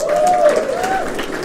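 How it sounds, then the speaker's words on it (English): A live convention audience at a gaming panel breaks into applause, a steady wash of clapping and crowd noise lasting the whole moment, with a faint voice underneath. "Everybody, a round of applause for Maps."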